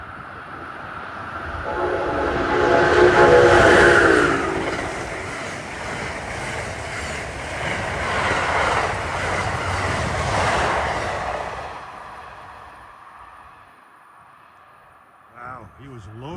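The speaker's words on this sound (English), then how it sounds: "he was loaded with U-liners. That was the ill-fated 99 from Boston to Newport News" Amtrak train 99 from Boston to Newport News, loaded with U-liner cars, passing Princeton Junction, New Jersey: a loud, steady rumble and rush of rail cars building and fading over several seconds, with a horn early on.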